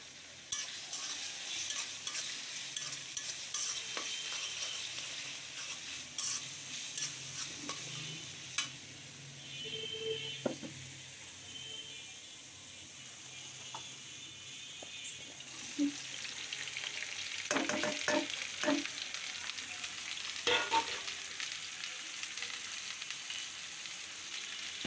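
Bitter gourd stir-fries with black cumin in a pan, a soft continuous sizzle broken by scattered scrapes and clacks of the stirring utensil, moderately close and with no talking.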